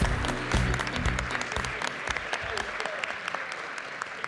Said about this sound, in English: Let's have a round of applause for all of our contestants again.